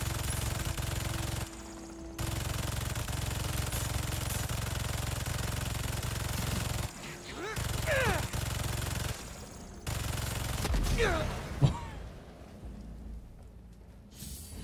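Turret gunfire in the Spider-Man 2 video game rattles in dense, sustained bursts that are broken by short gaps, with sharp whooshing effects and a loud impact near the end.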